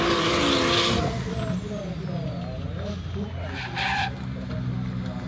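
Drift cars skidding toward the finish line at a motorsport event, loud sustained engine roar and tire squeal nearby with shifting whines, a voice heard briefly over the noise.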